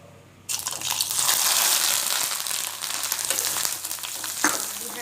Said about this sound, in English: We have to fry it on low flame